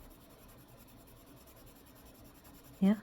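A soft colored pencil scratches faintly across paper in continuous light strokes, with a brief louder tap near the end.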